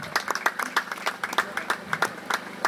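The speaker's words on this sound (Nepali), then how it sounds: "जोरदार ताली बजाएर पार्षदजीलाई धन्यवाद दिनेछौँ वचनको शुभकामनाको निम्ति।" Guests at a wedding reception applaud after a councillor's speech, a brief burst of sharp, distinct hand claps with a few people clapping at an uneven rhythm, fairly close, over a low background hum.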